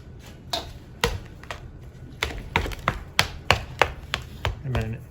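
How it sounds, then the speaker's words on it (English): A big whisk knocks against a bowl while mixing farm egg into sweet potato gnocchi dough outdoors, a series of sharp, close clacks in an uneven rhythm over a soft background. "we just get to mix it up with the big whisk"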